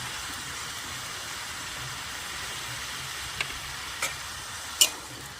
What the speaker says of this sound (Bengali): আবারও ভালোভাবে ওলকপিগুলোকে মশলার সঙ্গে মিশিয়ে ভাজা করে নেব।